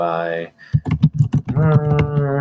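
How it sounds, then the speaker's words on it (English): A burst of rapid keystrokes on a computer keyboard as a name is typed into a Google Docs document, clicking close and crisp for under a second between stretches of a nearby voice speaking. "go ahead and type your name"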